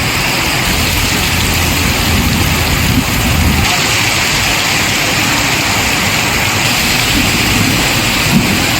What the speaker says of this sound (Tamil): இடி மின்னலுடன் பலத்த மழை பெய்தது